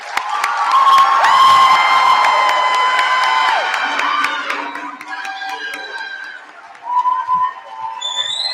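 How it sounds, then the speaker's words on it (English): An audience stands and applauds with cheering, loud crowd clapping and whoops with a whistle-like tone riding over it, fading into scattered shouts toward the end. "Now, everyone, please stand and give a big round of applause to show support for Jordan, Maya, Gabriella, and Claire."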